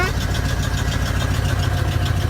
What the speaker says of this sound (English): it's idling down now